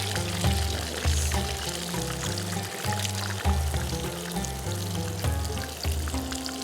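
Battered prawn tempura fries in oil with a continuous bubbling sizzle, mixed under a rhythmic, bass-heavy music track at similar loudness.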